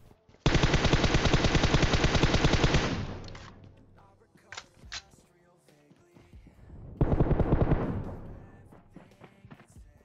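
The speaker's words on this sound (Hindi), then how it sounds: "अब गोलियां गाड़ी पे लगती है" Two long bursts of rapid automatic gunfire hitting a car in PUBG, loud and close, separated by a few scattered shots and thuds in between.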